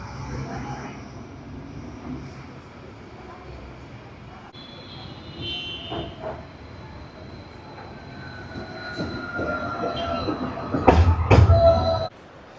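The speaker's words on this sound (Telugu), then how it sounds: "ఇప్పుడు వస్తుంది ట్రైన్." A light rail train rumbles into a station in Addis Ababa, Ethiopia, growing steadily louder over several seconds, ending with sharp metallic squeals and clanks as it reaches the platform.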